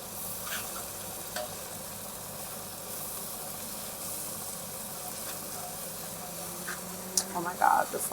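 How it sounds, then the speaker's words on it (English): Onions and garlic sautéing in a pot with oil, a steady soft sizzle and stirring under quiet room noise, with a few louder utensil scrapes near the end. "we'll let that saute for about 2 to 3 minutes, and then we'll add in our garlic"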